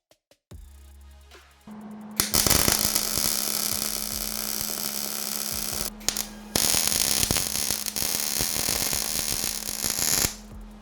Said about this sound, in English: Do you want to weld a couple welds?